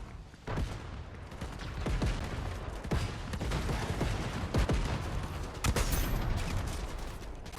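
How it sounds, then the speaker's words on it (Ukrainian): Rapid gunfire and sharp sniper rifle shots crack through a Fortnite match, with irregular bursts and single loud reports scattered across a noisy in-game battle. "перезаряджаю снайпу і з, снайпу попадаю в голову з пролагами"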